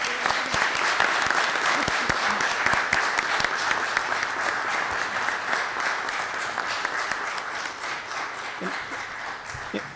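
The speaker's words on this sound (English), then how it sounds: "Big round of applause." Applause for Sarah at a common council meeting, a room of people clapping steadily and fairly loudly for the full stretch, tapering slightly toward the end.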